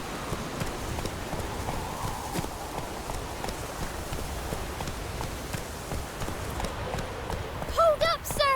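Horse hooves clip-clop at a steady gallop in The Witcher 3, a continuous rhythmic thudding run over ambient game sound, with a brief voice near the end.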